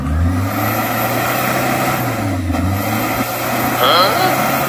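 An Isuzu 4JX1 diesel engine with a low-power, black-smoke and delayed-acceleration fault runs steadily with a dip and rise in revs. The engine stays loud and close throughout while voices talk over it.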